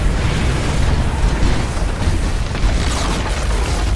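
Tower under attack and collapsing in a Dota game, a loud rumbling run of explosive booms and crashing impacts lasting several seconds, with no voices.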